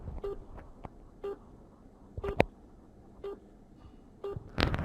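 A mobile phone call on loudspeaker plays a series of short electronic tones, evenly spaced about a second apart, faint and thin against a quiet room, with a louder click near the end.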